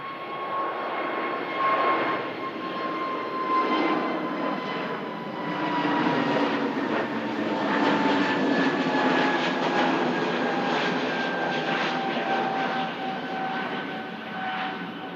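An Airbus A320neo climbs after takeoff from Manchester Airport, a loud, sustained jet roar with a steady engine whine that slowly drifts in pitch, heard alone for the whole stretch.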